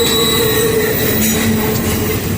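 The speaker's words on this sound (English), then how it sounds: "They have to slide sideways, and that's what causes that really high-pitched squeal." Freight train wheels on a grain car squeal steadily and loudly as the axles slide sideways on the rail, a sustained high-pitched tone over continuous rumbling rail noise, close by with no talk.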